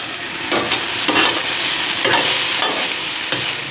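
Chicken, bean sprouts and vegetables stir-frying on an outdoor grill top make a loud, close sizzle, with repeated scraping turns of a spatula in a loose rhythm and no speech.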